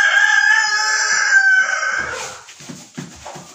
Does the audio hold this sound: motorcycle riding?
no